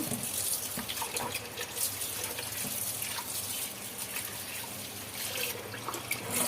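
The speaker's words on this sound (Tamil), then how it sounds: "இப்போ இதை வந்து நம்ம எட்டு டைம் நல்லா நல்லா தண்ணி ரொம்ப விட்டு அலசணும்" Tap water runs steadily into a sink while cut aloe vera leaves are rinsed under it, a continuous close splashing hiss with small irregular sloshes and no talk.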